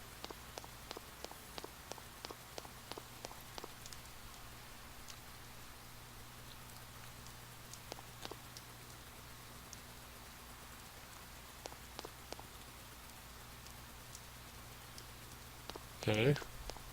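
Rain falling in the video game Persona 4, a soft, steady hiss of rainfall with a faint low hum beneath, light ticking taps early on and a brief louder burst near the end.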